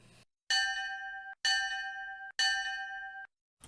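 Three clear bell dings in a row, each a bright ringing tone that sustains for about a second before cutting off, with short silent gaps between.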